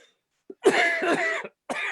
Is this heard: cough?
yes